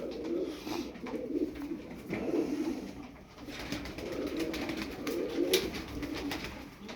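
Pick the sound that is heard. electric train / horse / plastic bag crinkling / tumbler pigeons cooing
tumbler pigeons cooing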